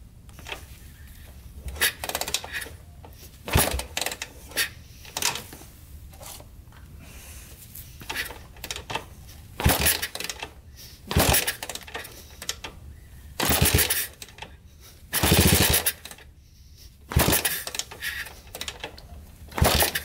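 Honda ATC 200X three-wheeler, long unused, sputtering through repeated short bursts of engine firing and revving that catch and die in an uneven rhythm, loud and close with brief quiet gaps.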